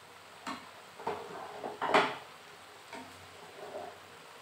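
Metal pot lid lifted and handled while fish cooks on the stove, a few light clinks and taps, the sharpest one in the middle, fairly quiet and close with no talking.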